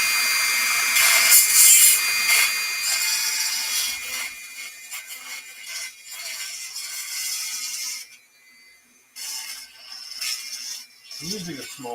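A rotary tool with a small bit grinds material from a Bandai Gundam M61A5 Main Battle Tank model, a high, whining buzz in bursts that cuts off and restarts, with someone talking briefly near the end.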